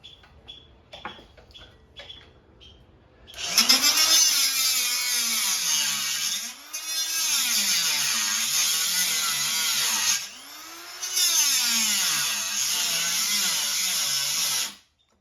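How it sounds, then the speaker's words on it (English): A cutoff wheel grinding the heads off rivets on a Troy-Bilt pressure washer, a few taps first, then loud high whining cuts in three long bursts with the pitch dipping under load. "I've got my cutoff wheel, and I'm going to proceed to cut the heads off these rivets"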